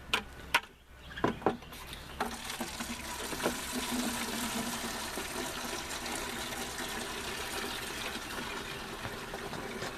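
Water pours steadily from a tap into a bucket to make compost tea, about 2.5 gallons, with a few clunks at the start and then a continuous close gushing fill.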